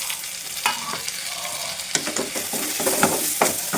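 Onions sautéing to golden brown in a pan for a cumin kuzhambu, a steady close sizzle with sharp scraping strokes of a spoon through the second half, no talking.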